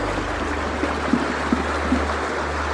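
A small creek at Silver Creek Conservation Area on the Niagara Escarpment flows steadily close by, a continuous wash of water with a low rumble underneath and faint splashes.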